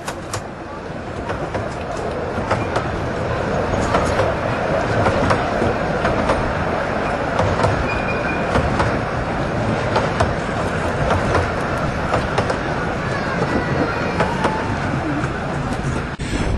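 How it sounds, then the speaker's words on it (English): A small narrow-gauge train near Fairbourne, North Wales, rumbles past steadily on the far side of the estuary with continuous rolling noise, fairly close, with some faint talk mixed in. "This is a tiny little train at the other side."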